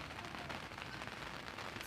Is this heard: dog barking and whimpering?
no